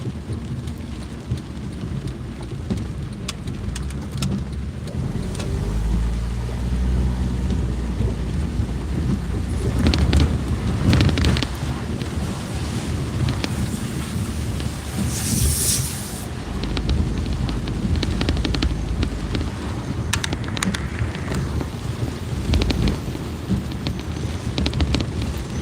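Heavy rain falls outside on a street in Upper Darby, a continuous loud wash with wind buffeting the microphone and occasional louder gusts and splashes over the steady downpour.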